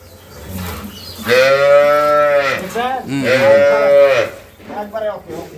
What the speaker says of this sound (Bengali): ওইটাই গাভি ওইটাই গাভি